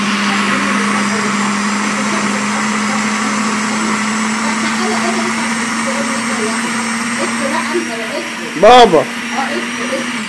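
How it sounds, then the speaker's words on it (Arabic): A kitchen blender grinds fava beans in a steady, loud, whining drone that runs unbroken, with a voice speaking briefly over the motor near the end. "بعد ما ينضرب في الخلاط، هنشوف الفول ده عامل ايه"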